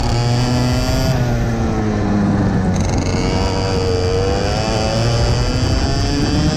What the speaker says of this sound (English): You can hear the hesitation on the throttle